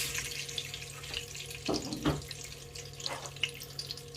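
Onion frying in red palm oil for a Nigerian spinach stew, a steady broadband sizzle with a few louder crackles and spatters partway through, close and continuous with no talking.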